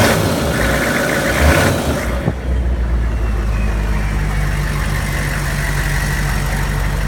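A Hummer H1 with a turbo sits idling, its engine giving a loud, steady low rumble that settles after a brief rise and shift early on, with no talk.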